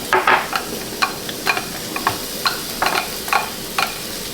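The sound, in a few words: onions sizzling as they are added to a frying pan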